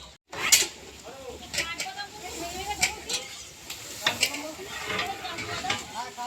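Pointed gourd with prawns and a pot of meat cook at a large home gathering, giving off a soft sizzle, stirring scrapes and clinks of utensils against pots, with people talking over the cooking.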